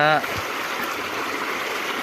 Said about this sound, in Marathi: पाणी बघा किती आलं पाणी